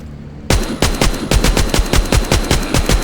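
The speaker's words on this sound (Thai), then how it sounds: "มินิกันโคตรแรงเลย" Minigun in The Walking Zombie 2 zombie shooter game opens fire after a brief quiet moment, then keeps up a loud, rapid, evenly spaced burst of heavy gunshots to the end.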